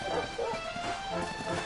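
A dog in the Dragon Quest XI video game gives short barks and yips, a few brief calls repeated over a steady background of game music.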